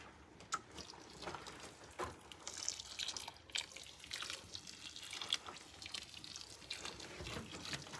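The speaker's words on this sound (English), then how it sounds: "give it a little water." Quiet trickling and dripping water as plants are watered in a timber frame greenhouse, with soft irregular drips and splashes over a faint background hiss.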